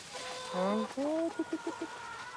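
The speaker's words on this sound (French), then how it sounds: "Et les poules, les poules, les poules." Hens cluck in a short series of rising calls followed by quick, evenly spaced clucks, fairly close and moderately loud over a quiet background.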